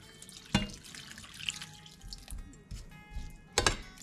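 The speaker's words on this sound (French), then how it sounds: "Je vais couvrir d'eau." Water runs from a tap into a pot to cover apples for cooking, an uneven splashing trickle with two louder gushes, fairly close and with no speech.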